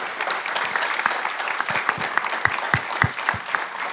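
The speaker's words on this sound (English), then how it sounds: "Let's have a round of applause for our candidates." An audience at a candidates' forum for South Carolina Commissioner of Agriculture applauds its candidates, with a dense, steady roar of clapping and several sharper, closer hand claps standing out through it.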